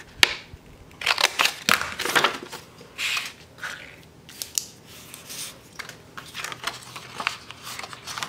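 Scissors snip through fabric down the center while making a baby bow, with a series of sharp, close cuts in uneven bursts and quiet pauses between them.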